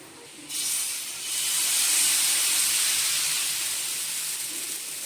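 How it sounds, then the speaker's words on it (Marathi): A hot oiled griddle for semolina batter bursts into sizzling after a brief quiet moment, then holds a loud, steady hiss that slowly eases. "तवा गरम झालेला आहे आपण आता त्याला थोडं तेल लावून घेऊया"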